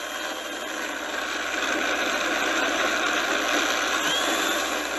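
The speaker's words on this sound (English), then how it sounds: "But I don't like that motor sound. There's something going on with that prop." A Turbo Timber model aircraft's electric motor and propeller, with a suspected propeller problem, drone continuously at a steady, fairly loud whine with little change in pitch.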